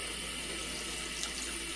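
Cold tap water runs steadily from a faucet into a pot of boiled eggs, a continuous close splashing rush that stays even throughout, with no talking.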